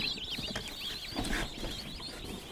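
Standard bronze and broad-breasted bronze turkey chicks give a steady run of high, wavering peeps at close range, many overlapping calls with no speech.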